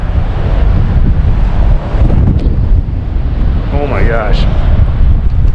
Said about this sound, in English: My glasses are blowing off of my head. It's so windy.